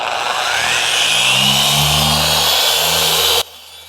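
A 5.5-inch car paint polisher whirs steadily at high speed with a slight rising whine, working on a white Porsche Panamera, then cuts off abruptly near the end, leaving quiet room noise.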